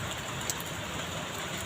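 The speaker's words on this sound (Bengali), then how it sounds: "দেখো কেমন বৃষ্টি পড়ছে" Steady rain falling, a soft, even wash of patter with no pauses, faint and fairly distant throughout.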